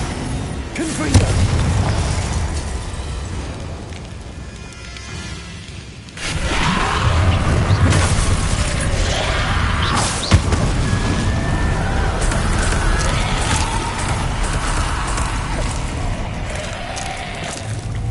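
Confringo fire spell blasts in Hogwarts Legacy, heard as heavy booming explosions with a rumbling, rain-like crackle that stays loud throughout, one strong burst marking the start and another hitting partway through.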